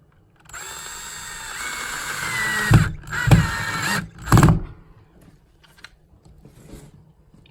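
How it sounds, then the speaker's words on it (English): A power drill bores into plastic rock holds close by, a whining spin with sharp bursts of grinding as the bit bites in three times, then fading to light handling noises. "There's a little drilling close-up."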